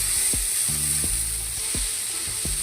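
Bitter gourd and potato fry in a pan with a steady close sizzle, broken by several soft scraping strokes as the vegetables are turned over.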